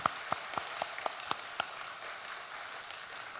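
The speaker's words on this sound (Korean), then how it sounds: "자, 한번 또 박수로 우리 축복하도록 하겠습니다." A handful of sharp claps from a church congregation ring out in an irregular rhythm, then fade into a soft hiss of background noise.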